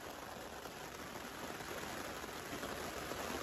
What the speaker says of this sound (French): Sous l'orage de grêle